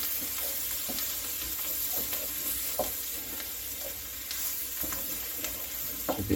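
Flour being stirred into cooked onions in a hot pan, a soft sizzle running under repeated scraping strokes of a spoon, close and fairly quiet, with no talking.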